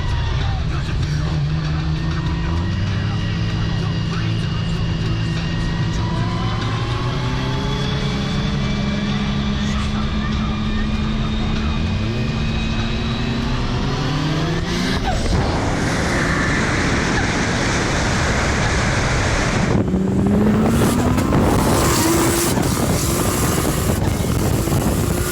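Nissan R32 GT-R with a single-turbo conversion making around 900hp, running on high boost: the engine note climbs steadily through the gears, loud and close, with wind and road rumble underneath and a voice talking over it.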